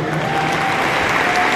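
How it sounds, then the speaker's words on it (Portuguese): Applause from an audience at a military police school graduation ceremony in Manaus, a steady loud roar of many hands clapping together in a large hall. "Em fortes aplausos, senhoras e senhores."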